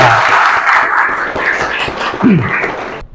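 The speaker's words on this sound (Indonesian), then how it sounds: "tepuk tangan untuk kelompok Cantia." Applause from a classroom of students for a student group about to give its presentation, a short burst of clapping mixed with voices that fades out after about three seconds.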